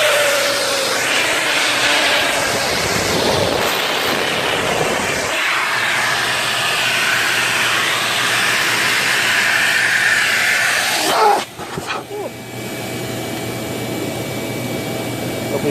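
Compressed air blasting through GY6 scooter parts to clear out debris, a loud, steady hiss that keeps going for about eleven seconds, then stops with a few short bursts and some rattling.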